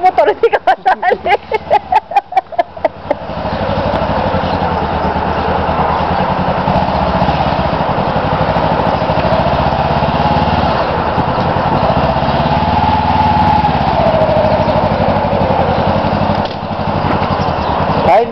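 A motorcycle engine starts with a few sputtering pulses, then settles into a loud continuous buzzing run close by, with voices talking over it at times.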